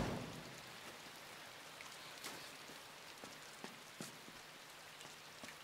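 Soft, steady rainfall patters across a surface in the video game Inside, with occasional louder drips standing out; quiet and distant, with no voices.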